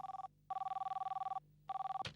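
A telephone rings early in the morning in two long bursts of rapid electronic trilling separated by a short pause, loud and close with no one speaking.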